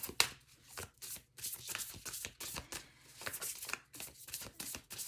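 Oracle cards being shuffled by hand in a quiet room, a steady run of soft papery riffles and flutters with small slaps as the deck is squared, close and fairly quiet, with no talking.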